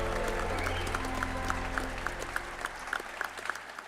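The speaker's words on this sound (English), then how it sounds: "Please join us in a round of applause for 2024 inductee, Liz Repella." An audience applauds a 2024 WVU Hall of Fame inductee, a sustained burst of clapping from a moderately sized crowd that thins toward the end.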